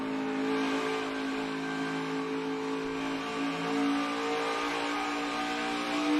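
A NASCAR Xfinity Series race car accelerates at speed, its engine holding a steady, droning multi-tone whine that swells slightly midway, heard alone at moderate distance.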